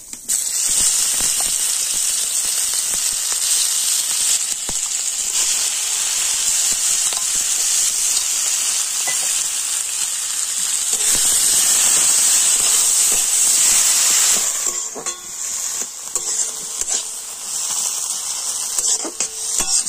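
Spiced cabbage hitting a pan of hot mustard oil with black cumin, a loud, steady sizzle and hiss that holds strong throughout, swelling briefly before easing into softer, crackling frying with occasional stirring scrapes.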